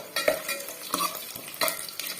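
Cumin and whole spices sizzle in hot oil in a pan while being stirred, with several scraping stirs and soft crackling frying up close.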